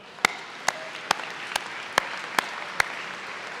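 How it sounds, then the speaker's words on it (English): Sparse, evenly spaced single claps ring out at a 2019 Rowan University commencement, seven sharp hits about half a second apart over a faint, hushed background. "Let's give them a big round of applause as well."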